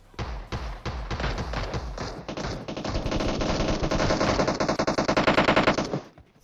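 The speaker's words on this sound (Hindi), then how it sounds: "अब गोलियां इधर तोड़ फोड़ के चल रही है" Rapid bursts of PUBG Mobile gunfire rattle almost nonstop, building into a dense automatic stream before cutting off abruptly.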